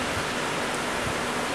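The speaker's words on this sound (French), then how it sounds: "Que cette pluie s'arrête." Steady rain falls outdoors at an evening slam poetry event in the Central African Republic, a continuous soft broadband hiss at moderate level with no voices.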